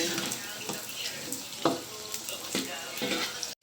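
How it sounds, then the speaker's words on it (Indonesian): Tempeh fries in a pan with a steady sizzle and bubbling crackle, joined now and then by light stirring scrapes, with no talking. "kemudian kita goreng tempe"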